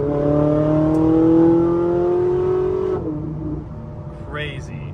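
A Porsche 997 Widowmaker sports car with an aftermarket exhaust holds a loud, rising rev for about three seconds, then drops off sharply into a lower idle burble, with a voice briefly heard near the end.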